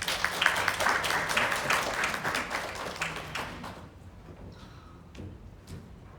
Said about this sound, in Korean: 틸러소프트 성장 가속 본부의 정주영 PD님을 큰 박수로 맞이해 주십시오.